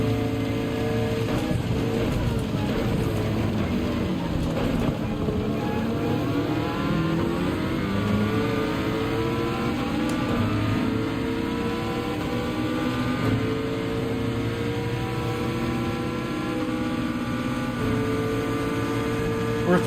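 Race car engines in Gran Turismo 7 at the Red Bull Ring during a Manufacturers Cup race, a dense pack of cars droning and revving continuously with rising and falling pitch as they pass and shift, loud and steady throughout.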